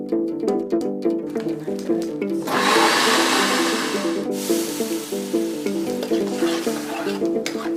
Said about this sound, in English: After it's heated, sliced onions are added and caramelized.